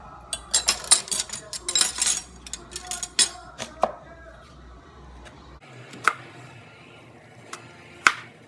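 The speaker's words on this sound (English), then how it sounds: "chop my onion." A red onion being chopped thinly with a knife on a board for guacamole, a rapid run of sharp close cuts followed by a few isolated chops after a pause.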